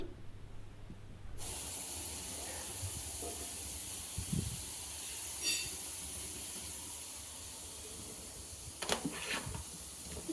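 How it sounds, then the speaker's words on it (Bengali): Lentil fritters frying in hot oil give a steady, bright sizzling hiss that starts abruptly and runs on evenly, with a few soft clinks and bumps from the pan. "এই যে বড়াগুলো ভেজে নিচ্ছি"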